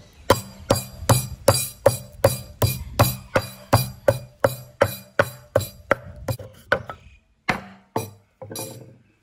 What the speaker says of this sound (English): now we pound it in the mortar here